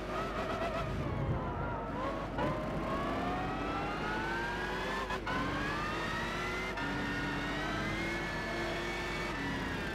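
Racing car engines roar continuously in Gran Turismo 6 during a historic racing car cup, several cars revving and shifting gears with rising and falling pitch, loud and steady throughout with no talk.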